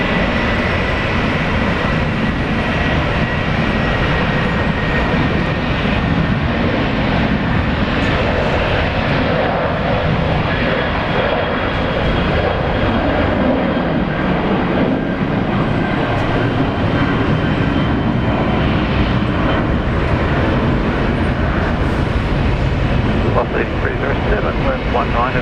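A Qantas airliner departs Brisbane Airport on a flight to Auckland, its engines making a steady, loud broadband roar that holds throughout with no clear rise or fall, while people talk over it.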